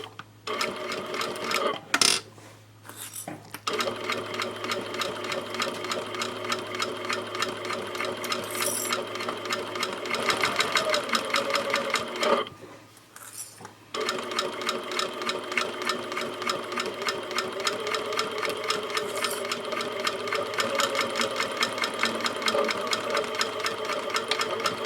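A domestic sewing machine stitches a half-inch seam on a zippered pouch at a 2.5 stitch length, whirring in a fast, even rapid-fire chatter with short pauses where the backstitching happens at each end.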